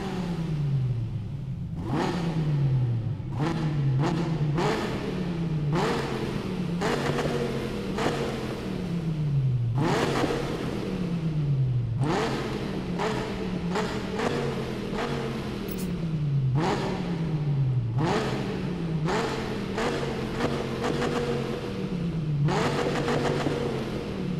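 Dodge Viper ACR sports car tuned past 1200 horsepower in Need for Speed 2015, engine revving hard in repeated loud rising-and-falling bursts with gear-change drops, steady and close throughout.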